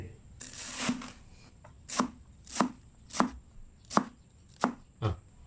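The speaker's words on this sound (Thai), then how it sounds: "ในส่วนของเห็ดเข็มทองนะ ก็หั่นตั้งแต่อยู่ในถุงเลย" A knife chops steadily through enoki mushrooms still in their plastic bag on a cutting board, about eight sharp evenly spaced thuds with a faint rustle of plastic.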